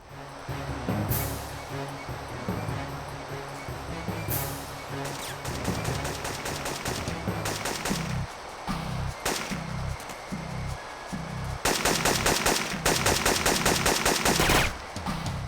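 Gunfire in Syphon Filter 2 during a mountaineering level: bursts of rapid automatic fire crackle in quick succession, some long and some short, over a continuous background of in-game music and ambience.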